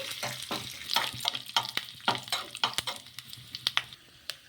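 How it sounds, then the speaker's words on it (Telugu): Curry leaves and chana dal sizzling in hot oil while a spoon stirs and scrapes the pan, giving a steady crackle broken by quick clinks of metal against metal. "కొద్దిగా కరివేపాకు వేసుకొని ఒకసారి బాగా కలిపేసుకొని కొంచెం ఎర్రగైన అయిన తర్వాత"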